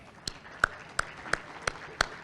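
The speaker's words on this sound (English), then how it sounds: "Let's give them a big round of applause." A few slow, separate hand claps at a Chamber of Commerce monthly luncheon, about six sharp claps at a steady rhythm with quiet room tone between, no talk over them.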